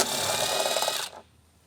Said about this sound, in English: you're going to need a 10mm socket for that bolt there